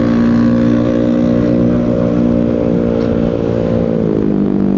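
Steady engine drone of a Yamaha NMAX 250 cc scooter-style motorcycle being ridden, a constant harmonic hum with slight pitch drift near the end, loud and continuous with no talk.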